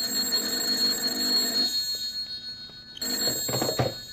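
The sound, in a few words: telephone ringing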